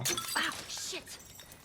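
An object smashes in The Last of Us, a sharp glassy shatter followed by tinkling fragments, with speech-like voices over it in a short burst.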